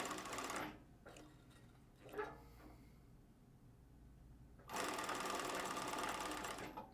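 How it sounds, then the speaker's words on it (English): A Juki LS-1341 cylinder arm sewing machine stitches a test sample on material in short runs, a rapid mechanical whir that stops, gives a few faint clicks, then starts up again. "we're going to go ahead and just do a quick little sample sew out on the piece of material"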